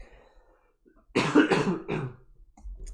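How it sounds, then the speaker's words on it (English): A single harsh cough, close and loud, followed by a couple of throaty hacking bursts with no talking. "I got a cough."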